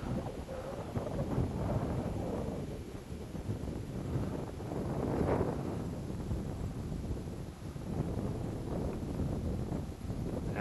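Gusty wind buffets the microphone outdoors, a low, rumbling roar that swells and eases in waves, with no voices.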